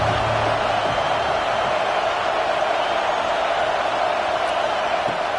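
Steady, dense stadium crowd roar from a college football video game, a constant loud wash of cheering that continues without break.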